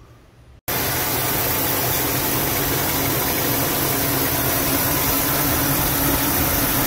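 A GMC Sierra / Chevy Silverado pickup engine, just after a power steering line and hose repair, fires up after a brief near-silence and settles into a loud, steady, close idle with no talking.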